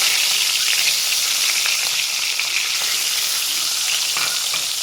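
Eggs fry in hot oil with turmeric, giving a steady, close, dense sizzle with faint crackles and occasional stirring, and no voices.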